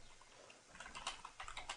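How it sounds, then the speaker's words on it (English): Close typing on a computer keyboard right by the microphone, a quick patter of soft key clicks that grows busier toward the end, quiet and without talk. "I'm typing around my microphone, which sits right in front of my face, so it's kind of hard."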